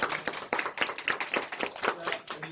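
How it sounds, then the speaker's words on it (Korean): A church congregation claps for a member called forward, a fairly sparse, uneven clapping of a modest group with distinct individual hand claps in a loose rhythm. "박수 해주세요."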